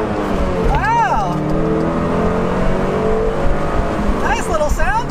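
A 2009 Pontiac Solstice with a 2.4-liter four-cylinder engine accelerating on a back road, a steady, loud engine drone with rising whines from the cabin and a faint voice underneath.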